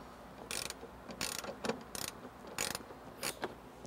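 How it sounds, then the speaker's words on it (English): Seat belt bolt on a 1999 Acura Integra being loosened with a 14 millimeter wrench, giving about six short bursts of ratcheting, clicking metal at close range, with quiet pauses between them. "We can actually take our 14 millimeter wrench. So what we're gonna do is we're gonna remove this bolt right here."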